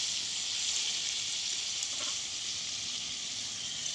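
Chela river fish frying in a pan of hot oil, a steady close hiss and crackle throughout with a faint clink near the middle.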